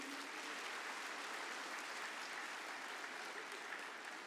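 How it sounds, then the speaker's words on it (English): Steady, sustained applause from a large audience filling a conference hall at a business conclave plenary session, dense and even throughout with no talk over it. "Can we have a round of applause"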